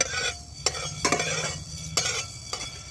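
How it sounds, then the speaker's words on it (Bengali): Black peppercorns dry-roasting in a pan over medium-low heat, stirred with a utensil: a steady faint rattle and scrape broken by several sharper clinks of the spoon against the metal. "প্রথমে আমি এই শুকনো করাতে গোলমরিচটাকে হালকা একটু ভেজে নেব একটু গরম করে নেব"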